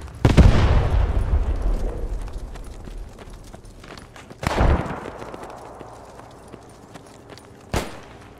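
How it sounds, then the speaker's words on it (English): Grenade explosions in the Squad 44 shooter on a North Africa desert map, three loud booming blasts spaced a few seconds apart, each trailing off in a long rumbling decay. "They're throwing grenades from this direction."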